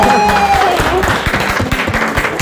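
A small audience at a skateboard and board game community gathering claps in scattered, uneven bursts. A faint tone and room noise sit beneath the claps.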